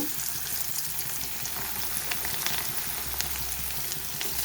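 Pumpkin and potato pieces frying in a pan, giving a close, steady crackling sizzle with occasional stirring and no talk.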